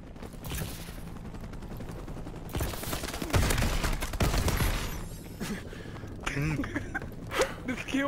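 Bursts of video game gunfire from a multiplayer free-for-all shooter, rapid volleys and single cracks crowding the middle of the stretch, with busy effects throughout and voices underneath.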